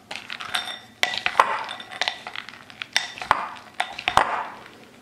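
A spoon stirs melted chocolate morsels in a bowl, with repeated scraping strokes and sharp clinks against the bowl's side, close and fairly loud, with no voices.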